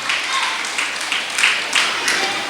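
Audience clapping steadily at a youth association's anniversary function, a dense, loud wash of applause throughout with a voice faintly mixed in.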